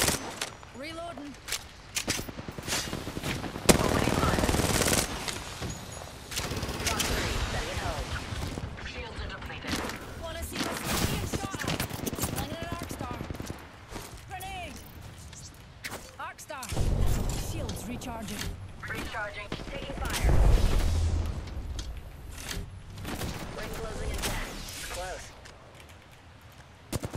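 Apex Legends gunfire in ranked solo play: rapid bursts and sustained automatic shots crackle throughout, mixed with in-game effects and a voice talking over much of the fighting.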